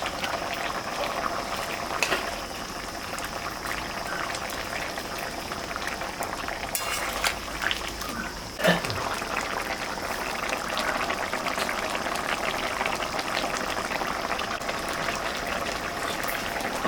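A pot of fish curry with lata and bata fish bubbles at a steady, low simmer, with a few soft clicks and knocks over the continuous boil.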